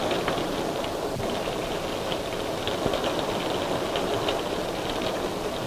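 Steady rain falls as a dense, even hiss with no break, alone and without speech.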